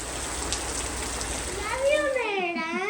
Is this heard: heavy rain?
yes